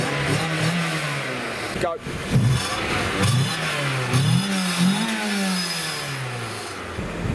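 Toyota MR2 MK2 engine starts and revs up and down in repeated rising and falling pulls, fairly close and loud, with a person briefly speaking over it.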